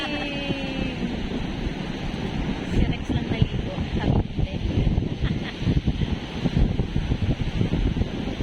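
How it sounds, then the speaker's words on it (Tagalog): Strong wind buffets the microphone in heavy gusts at the seaside in Houlgate, Normandy, roaring and rumbling, with people talking nearby and surf-like noise beneath. "Ang lakas ng hangin."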